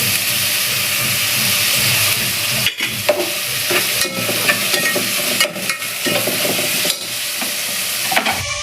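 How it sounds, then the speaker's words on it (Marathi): Onion frying in oil in a pan, a steady loud sizzle with a stirring spatula scraping and clattering at intervals. "लवकर कांदा भाजेल."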